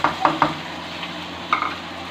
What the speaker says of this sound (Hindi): अच्छे से इसको फ्राई कर लेंगे